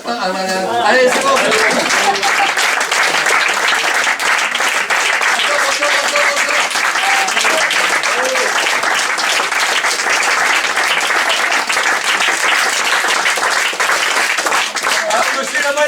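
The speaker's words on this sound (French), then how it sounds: "il nous faut des sourires, des applaudissements" Sustained applause from a theatre audience at a French anti-depression comedy about lying, a loud dense wash of clapping that holds steady for about sixteen seconds.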